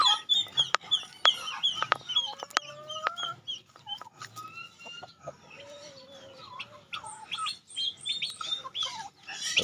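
Poultry calls ring out nearby in a farmyard where turkeys are kept for roasting. The clucks and gobble-like bursts come repeatedly and irregularly, with faint chirps between them.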